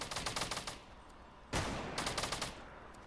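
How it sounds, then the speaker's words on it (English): Bursts of gunfire in Fortnite during a duo match, a rapid rattling volley, a sharp loud blast midway, then another quick burst of shots. "Getting shot at."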